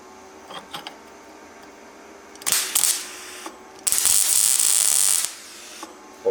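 A MIG welding machine, set up for repairing holes and corrosion in car, SUV or truck bodywork, switches on with a short mechanical clatter followed by a steady loud hiss and buzz lasting about a second, with no one talking.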